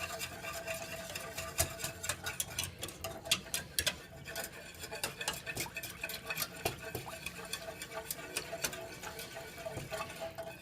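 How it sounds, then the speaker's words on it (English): A whisk clicks rapidly against a pan as milk is worked into a roux for Alfredo sauce, a quick irregular ticking and scraping that carries on steadily at close range. "You got to mix it really well because you want to break up that roux to help that thicken."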